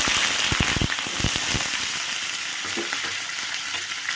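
Sliced hog plums hit hot mustard-seed tempering in a pan, giving a burst of sharp crackles and pops in the first second and a half, then settling into a steady, close sizzle.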